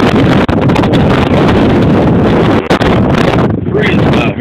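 Strong wind blows outdoors on a freezing day near an interstate highway, a loud continuous broadband roar buffeting the microphone throughout with brief gusty dips, no voices.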